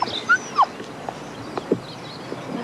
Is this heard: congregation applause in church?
no